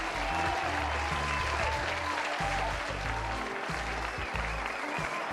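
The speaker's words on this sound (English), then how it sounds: "So I love the way that this one is actually animated, and it just constantly claps." Continuous looping applause effect from an animated clapping graphic on a live stream, dense and steady throughout at constant volume, layered over repeating low rhythmic tones.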